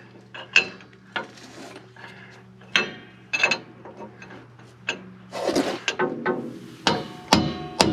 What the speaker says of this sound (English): there's not a whole lot of room to swing the hammer on the inside here